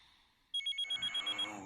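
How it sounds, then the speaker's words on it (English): A telephone rings after a near-silent start, a rapid electronic trill pulsing about eight times in quick succession, fairly clear and close with no talking. "Baby, answer your phone."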